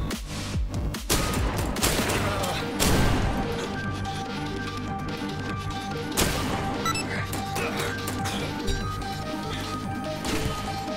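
Gunfire from a shotgun in the horror video game I Am Your Beast, loud blasts at about 1, 2 and 3 seconds over a dense, noisy game soundscape with steady tones and rumble throughout.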